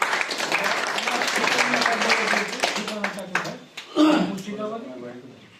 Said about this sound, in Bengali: তার জন্য আমরা একটু হাততালি দিয়ে তাকে অভিনন্দন জানাবো।